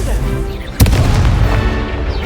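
A Confringo blast spell cast in the Hogwarts Legacy video game lands as one sudden, loud booming burst, followed by a rumbling tail and lingering game ambience.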